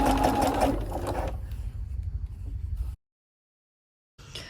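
A sewing machine stitches in the ditch along a dress neckline from the folded edge, running in a fast steady whir for about three seconds before stopping, then briefly starting again.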